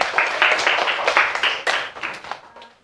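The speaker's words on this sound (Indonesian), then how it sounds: "Ya, tepuk tangan." A group of students in a class performance claps hands together in a short, loud burst of fairly rhythmic claps that loosen and fade toward the end.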